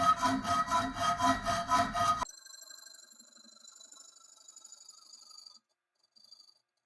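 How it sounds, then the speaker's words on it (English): Hand saw cutting soft aluminum on a workbench: a burst of rapid, even back-and-forth strokes, loud and close, stops abruptly after about two seconds, followed by faint high ringing and quiet rustles. "aluminum is real soft, so it doesn't need a lot of force to cut"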